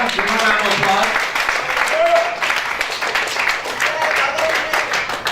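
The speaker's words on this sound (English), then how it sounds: "Yeah, give him a round of applause." A press-conference crowd applauds after the CEO and matchmaker of a Triumphant fight event is introduced, steady dense clapping throughout with voices and cheers mixed in.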